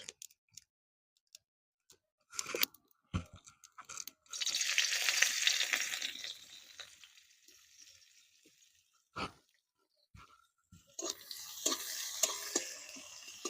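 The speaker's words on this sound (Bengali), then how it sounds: "পেঁয়াজটা হালকা করে ভেজে নেব।" Chopped onion with dried red chilli frying in oil, sizzling in bursts with stirring scrapes, quiet gaps between, then a steady hiss swelling again near the end.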